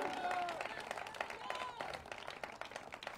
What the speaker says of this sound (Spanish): ¿Cuánto le dan palmas fuertes de alabanza al Señor,